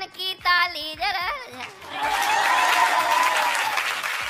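Audience applause breaks out at a Hindi poetry recitation, a full, loud burst of clapping that follows a reciting voice and holds steady to the end.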